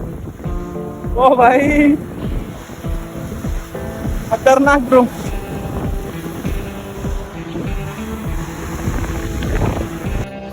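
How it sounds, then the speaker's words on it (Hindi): Big ocean waves breaking on Marina Beach in Chennai make a steady loud roar and wash with wind buffeting the microphone, while someone speaks excitedly twice over the surf. "अभी ये बड़ी लहर आ रही ना, ये बड़ी लहर के साथ नीचे की मिट्टी खींचे चली जाएंगी"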